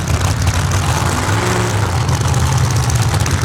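Two Pro Mod drag race cars idling at the staging lanes during an Elite 16 race in Texas, a loud, steady, lumpy low rumble that holds unbroken for the whole stretch with no voices.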